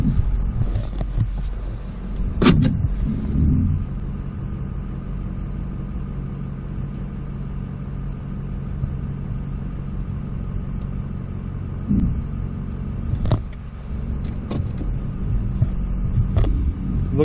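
A vehicle towing a trailer creeps forward slowly while a rear backup camera gets set up, its engine giving a steady low rumble throughout with a few brief bumps and thuds along the way.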